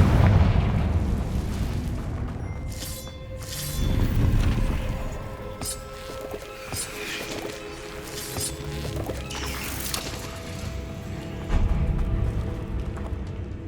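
Deep, booming Confringo fire-spell blasts in Hogwarts Legacy, played in a tomb, with heavy crashing impacts near the start and end, debris rumble, and scattered crackles in between.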